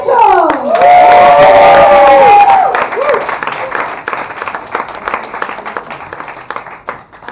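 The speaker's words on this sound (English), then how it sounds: "Please give a warm round of applause for Rachel!" An audience at a beginner students' stand-up comedy show in Berlin bursts into loud applause with whoops and cheers. The clapping swells for a couple of seconds, then thins out and fades beneath someone talking.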